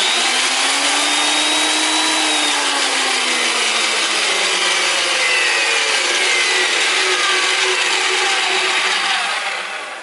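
A Delta 2240 portable thickness planer, 12-inch by 5.9-inch, runs steadily and loud throughout, a dense whining motor roar with a slowly shifting hum that starts to fade near the end.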